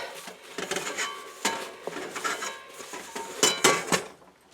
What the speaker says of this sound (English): Just going to give it a wipe out.